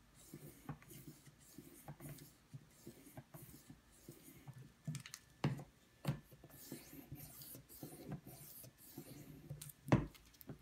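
A Hogue X5 knife being sharpened on an Edge Pro Apex stone, making soft repeated rasping strokes in uneven rhythm with a few sharper clicks, close and fairly quiet, with no talking.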